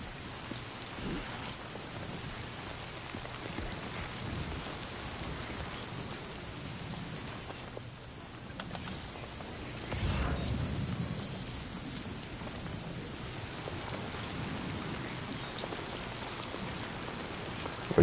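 Heavy rain in the video game Death Stranding 2 pours steadily throughout, with a deep roll of thunder swelling near the middle, and no speech.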